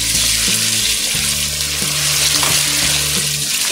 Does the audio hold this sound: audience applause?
no